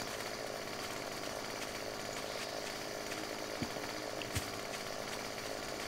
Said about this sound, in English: Go cut down all your corn with your chainsaw